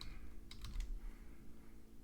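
Quick light keystrokes on a computer keyboard, a short cluster of taps close up and fairly quiet, with no talking.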